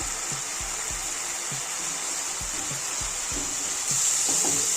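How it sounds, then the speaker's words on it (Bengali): Chickpeas frying in a pan for chola bhona, giving a steady close hiss with faint scraping stirs throughout, growing slightly louder near the end, with no voices. "এবারে রান্নাটাকে ভাজা ভাজা করে নেব।"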